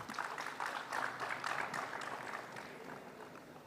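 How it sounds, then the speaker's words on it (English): A conference audience gives a round of applause to welcome a session moderator, many hands clapping briskly at first and then thinning and fading toward the end, heard from a moderate distance with no speech. "Let's welcome him with a huge round of applause, Mr. Karan Mangotra."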